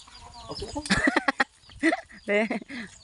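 A chicken clucks in short, choppy bursts close by, a few calls rising sharply, with faint voices in the background.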